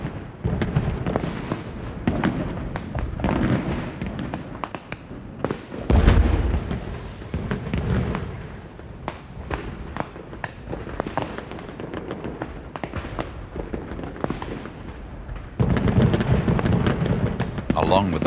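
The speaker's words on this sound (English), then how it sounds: "Along with the fireworks," Fireworks at a Scottish festival night, loud repeated bursts and crackling pops over a steady crowd-like wash, with a heavy boom near the middle and dense volleys toward the end; voices mingle in.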